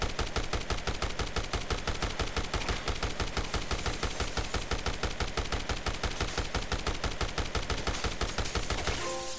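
Rapid continuous gunfire from the Dead Rising Deluxe Remaster video game, shot after shot in a fast, even automatic rhythm. It stays loud and close for the whole stretch, cutting off just before the end, with no talk.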